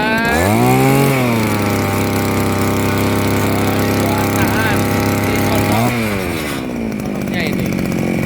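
A petrol-powered Firman earth auger drill, 5 or 12 inch, revs up loudly from idle, holds a strong steady engine whine, then drops back down near the end, close and continuous.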